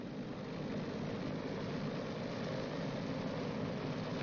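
Engines of a B-29 bomber drone steadily at run-up throttle, producing a dense, continuous low roar without breaks, heard from an old wartime recording with a muffled, narrow sound.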